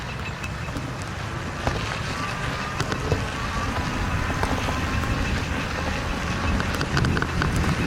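Tyres of a Qlife Hunter all-terrain folding eBike crunch and rattle over gravel, a continuous gritty close-up roar with scattered sharp clicks and bumps, steady in loudness.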